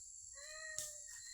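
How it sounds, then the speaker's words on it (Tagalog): A single cat meow, clear and close, with a high-pitched electronic whine humming in the background. "Pusa na naman oh."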